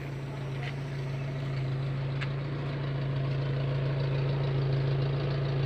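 An engine idles steadily with a low, even hum and a faint rattle, running continuously without revving, a couple of light clicks early on.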